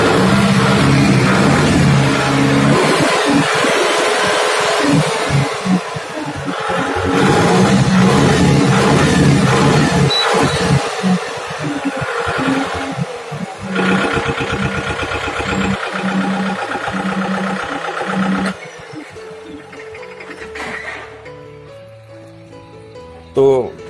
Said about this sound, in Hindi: चलिए अब ट्रैक्टर को स्टार्ट करके इसका साउंड सुन ले